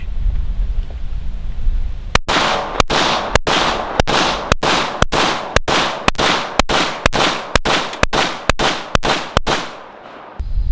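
A rapid string of about fifteen sharp gunshots fired at a distant target, evenly spaced and loud, each with a brief echoing tail, ending in a short pause with no talking.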